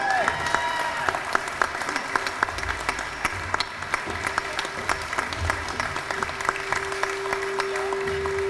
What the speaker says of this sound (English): Let's give her mom a round of applause.